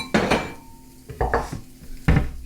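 A small bowl is taken out and fried chicken rice is served from a hot flat-top griddle: three or four sharp clinks and scrapes of dish and utensil, close and distinct, with quiet gaps between.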